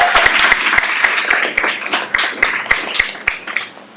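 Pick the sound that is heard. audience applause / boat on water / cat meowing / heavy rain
audience applause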